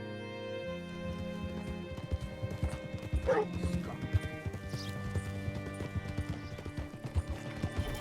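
Horse hooves clip-clop at a steady walking rhythm in Red Dead Redemption 2, with a brief whinny partway through, all under a layer of game music and ambience.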